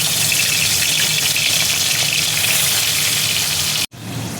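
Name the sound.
fish frying in hot mustard oil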